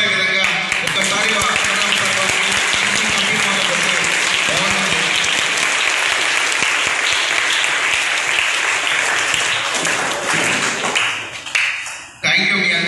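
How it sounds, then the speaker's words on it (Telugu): Audience at a social welfare school library opening applauding in thanks to the Vidyadhan Foundation, loud sustained crowd applause filling the room for about eleven seconds before fading out. "ఒక్కసారి వాళ్ళందరికీ మనం కృతజ్ఞతగా మన చప్పట్లు వాళ్ళకి వినపడే విధంగా"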